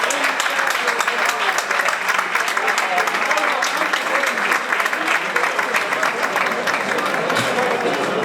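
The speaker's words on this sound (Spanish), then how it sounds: "Ese fuerte aplauso, bonito combate." An audience gives dense, steady applause after the Brayan Álvarez vs Juan Sanmartín boxing bout, loud and continuous throughout, with crowd noise blended into the clapping.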